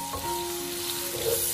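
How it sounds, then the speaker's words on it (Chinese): Cauliflower is stir-fried in an oiled pan, giving a steady close sizzle with faint scraping from the stirring. "然后把花菜加进来，再把花菜翻炒片刻"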